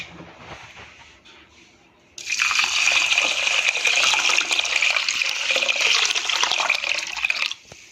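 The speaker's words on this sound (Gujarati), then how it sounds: "હવે આમાં આપણે સાફ પાણી રેડી અને એને ગેસ ઉપર બોઇલ કરવા મૂકીશું" Water is poured into a pot of rice in a strong, steady stream lasting several seconds, preceded by quieter handling noises.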